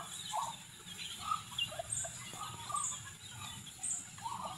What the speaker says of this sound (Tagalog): Yung kulay puti ko manok ko